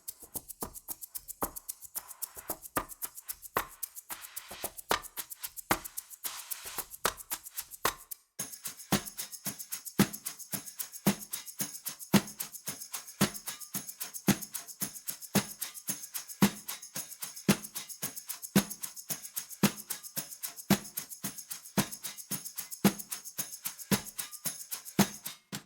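Percussion plugins play egg shakers, tambourine and a tin box in a dense, steady, fast pattern of crisp ticks and jingles, quiet throughout and with no talking.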